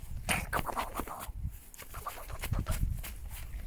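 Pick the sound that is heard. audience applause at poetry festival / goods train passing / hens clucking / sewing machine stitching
hens clucking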